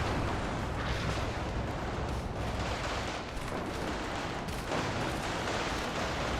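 Launcher fire and explosions in the WARNO wargame, a dense, continuous roar of booming blasts and crackling gunfire with no clear gaps, loud and sustained throughout.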